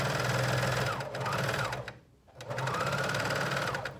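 A coverstitch machine sewing a cotton Lycra tee runs with a steady rapid mechanical chatter and motor whine, pauses briefly midway, then resumes at a similar close, even speed.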